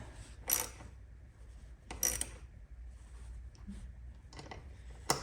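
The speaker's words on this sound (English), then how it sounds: "And then we take a ratchet tool." A ratchet tool tightens the air filter fitting on a BMW R NineT Racer motorcycle, giving three short, sharp clicking bursts spread apart over a quiet background.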